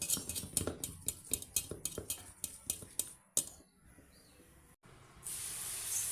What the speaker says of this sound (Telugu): ఇప్పుడు బాగా కలుపుకోవాలి.